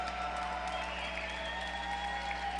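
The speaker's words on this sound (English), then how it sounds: "The crowd giving them what they deserve by cheering them on for that excellent fight." A crowd at a Montana mixed martial arts event applauds and cheers after a bout, a dense steady wash of clapping under a constant hum of the venue sound system.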